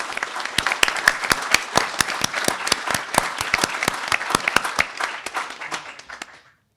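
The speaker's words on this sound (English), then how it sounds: "So let's give a round of applause for our alumni." Applause at a university homecoming panel, with a few loud, close, distinct hand claps standing out over a steady clapping crowd, tapering off and fading to silence near the end.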